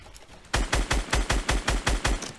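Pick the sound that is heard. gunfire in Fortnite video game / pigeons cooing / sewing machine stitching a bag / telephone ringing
gunfire in Fortnite video game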